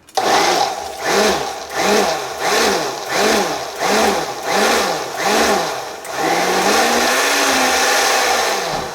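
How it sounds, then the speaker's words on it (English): A blender whirs through cream of potato soup in loud, pulsing bursts, roughly seven surges that each rise and fall in pitch before settling into one long continuous run. "And we're gonna blend."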